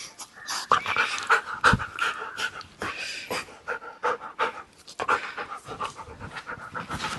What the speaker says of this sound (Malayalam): ഇത് അയലോക്കത്തെ പട്ടിയാട്ടോ